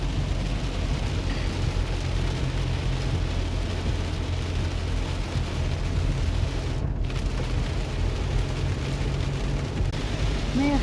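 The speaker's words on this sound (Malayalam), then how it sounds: "നല്ല മഴ." Heavy rain pours in a dense, unbroken hiss and rumble that stays loud and even throughout, briefly dipping for a moment midway.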